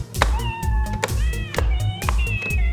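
Synthesized cat meows ring out from a Nintendo Switch Labo piano in a video game, a string of several pitched, tonal mews played in quick succession like notes, loud and close.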